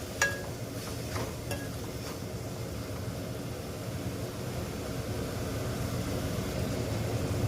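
Mushroom, potato and tomato curry frying in a pan, with a steady soft sizzle and a few scraping stirs near the start, without any speech.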